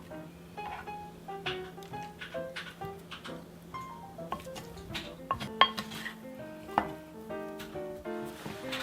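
Clinks and scrapes of utensils against a bowl as potatoes are stirred with chopped parsley, steady mixing clatter with a low hum underneath.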